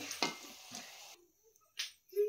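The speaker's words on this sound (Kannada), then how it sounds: "ನೆಕ್ಸ್ಟ್ ಇನ್ನೊಂದು ಸೈಡ್ ಈ ಥರ ಫ್ರೈ ಮಾಡ್ಕೋಬೇಕು ಆಯಿಲಲ್ಲಿ" Potato bondas fry in hot oil with a soft, fairly quiet sizzle that fades partway through, broken by a few brief scraping and stirring noises.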